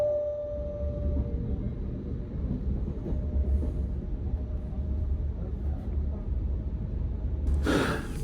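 The steady low rumble and rattle of a German S-Bahn commuter train heard from inside a moving carriage, a continuous droning ride noise with occasional clunks and a brief sharp hiss near the end.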